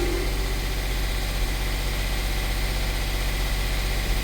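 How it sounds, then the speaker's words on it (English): A boat engine at Sabine Pass idling roughly, a loud, continuous low throbbing rumble with uneven pulsing vibration, close and alone without speech. "that engine's not acting right, as you can tell."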